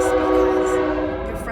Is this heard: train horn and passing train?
yes